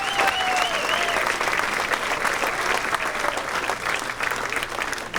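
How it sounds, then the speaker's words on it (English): A hall of fame ceremony audience applauds warmly, dense sustained clapping filling the room for several seconds, with a few voices and a whistle rising above it early on. "nice round of applause for all the coaches who helped out all these years"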